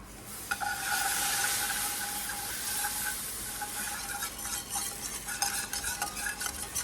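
Organic turkey broth and flour gravy stirred in a pan, a bubbling hiss with a quickening series of soft scraping strokes near the end, and no one talking.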